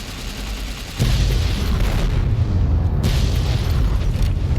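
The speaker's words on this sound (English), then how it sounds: "we're gonna blow up this here nuclear bomb" A nuclear bomb detonating in the video game Fallout New Vegas: after a quieter moment, a sudden deep boom erupts into a loud, sustained rumbling roar that carries through to the end.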